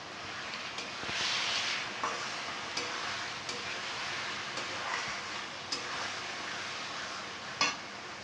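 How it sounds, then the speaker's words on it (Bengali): Potatoes stir-fried for a spiced chicken curry, a quiet steady sizzle in a pan with periodic light clicks and scrapes of a spatula stirring, fairly faint and without talk. "ভালো করে আমরা আলুটা দিয়ে কষাচ্ছি।"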